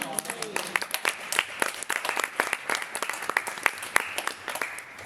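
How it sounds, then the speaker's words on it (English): Audience applause at a networking happy hour event, a crowd of individual claps sounding close and sharp, uneven in rhythm, with voices murmuring underneath. "let's give her a big round of applause."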